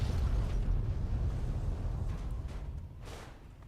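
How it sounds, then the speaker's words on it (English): A nuclear explosion in the game Fallout 3 gives a deep, sustained rumbling roar that slowly fades over a few seconds, with a brief crackling burst near the end and no voices. "No big deal, just a nuclear explosion."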